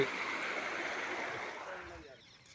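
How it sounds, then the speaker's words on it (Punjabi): Broad rushing floodwater from a breached stream embankment after heavy rain, steady and fairly loud, fading somewhat toward the end; no voices heard. "ਉਹ ਦੇਖ ਲਓ ਕਿੰਨਾ ਪਾਣੀ ਚੱਲਦਾ"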